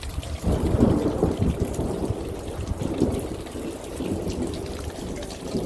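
Water draining and running off across ground reworked by excavator dirt work, a steady rushing wash of flowing runoff with low rumbling, fairly close and continuous, with no voices.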